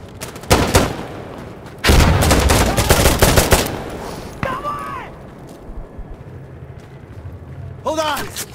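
Gunfire and a grenade explosion in the tactical shooter Insurgency Sandstorm: loud bursts of automatic fire and a heavy blast, then quieter stretches with shouted voice callouts and distant shots.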